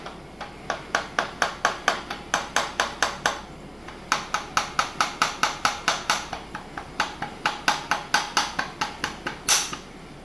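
Steady run of sharp metallic hammer taps, close and evenly paced, driving a keyed part onto a Duramax engine, with a brief pause midway before the tapping resumes.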